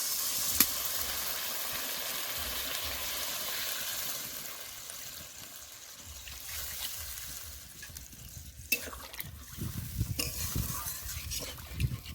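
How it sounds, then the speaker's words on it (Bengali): Potatoes and spices frying in a pan as water is poured in, steady sizzling hiss that dips and then breaks into a louder burst of bubbling and sputtering steam, close up. "আলু আর মশলাটা ভালো করে কষে নিয়েছি এখন দিয়ে দেবো জল"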